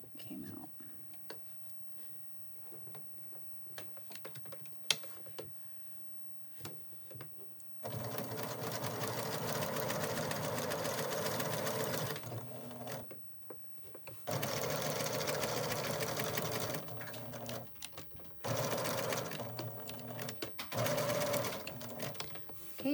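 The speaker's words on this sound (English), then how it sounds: "I will do a reverse stitch here just to catch my seams" A sewing machine stitches a fabric Project Protect Health face mask, running in several sustained bursts with brief pauses between them, after a quiet stretch of soft handling sounds at the start.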